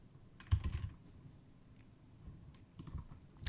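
Typing on a computer keyboard at a desk, with quiet clusters of key clicks in two short bursts separated by a lull, close and fairly soft with no talking.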